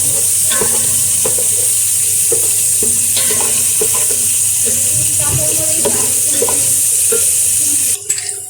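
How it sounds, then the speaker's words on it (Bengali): Chicken biryani with onion and garam masala stirred in a frying pan: steady sizzle with repeated scraping strokes, close and fairly loud, ending abruptly near the end. "এখন আমরা সব কিছু একসাথে নেড়ে নিব"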